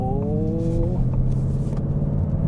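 A 2022 Ford Mustang GT with a six-speed manual gives off a low, steady engine rumble at close range, a short rising whine fading within the first second.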